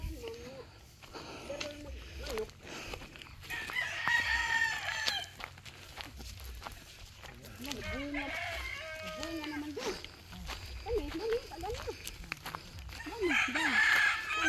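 Roosters crowing and chickens clucking around neighbours' coops in rural Rizal, Talibon, Bohol, with several crows rising through the clip over steady background noise while a person talks.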